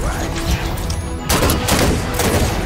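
Rapid gunfire in a battle in the video game Halo 5 Guardians on Xbox One, loud volleys of shots with a sharper burst halfway through.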